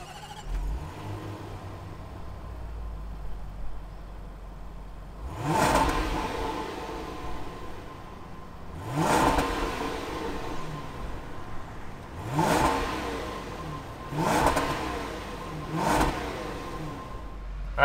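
A 2020 Range Rover P525 HSE LWB engine turns over with a low idle, then rises in five sharp revving bursts a few seconds apart, each surging loudly and falling back to idle. No one speaks.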